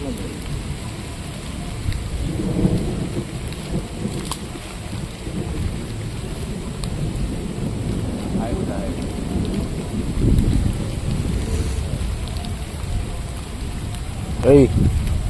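A nighttime thunderstorm brings heavy rain drumming steadily, with deep rolls of thunder swelling at intervals and a sharper crack near the end. Voices can be heard faintly beneath the storm.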